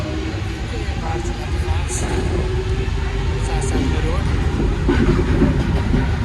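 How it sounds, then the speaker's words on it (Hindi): A Paris metro train in motion, a loud steady rumble of wheels on the rails with faint rattling and clicks that runs on throughout. "तो अभी मेट्रो बाहर निकलेगी"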